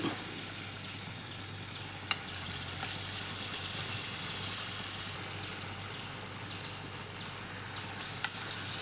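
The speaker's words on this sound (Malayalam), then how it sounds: "നമ്മുടെ ഓയിൽ ചൂടായിട്ടുണ്ട് അതിലേക്ക് ചിക്കൻ ഓരോ പീസ് എടുത്തിട്ട് ഫ്രൈ ചെയ്തെടുക്കുകയാണ്" Chicken pieces fry in hot oil for chilli chicken, a steady close bubbling sizzle that continues evenly throughout, with a couple of sharp utensil ticks and no talking.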